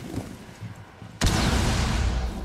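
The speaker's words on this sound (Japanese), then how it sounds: "どこブリーチングチャージしたんだ" A breaching charge in the video game Rainbow Six Siege detonates with a sudden, loud blast that cuts through faint background noise and leaves a sustained roar of rumbling debris.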